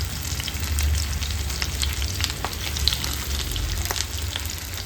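Basa fish fillets frying gently in a covered pan over a low flame, giving a steady, close sizzle with scattered soft crackles throughout and no voices.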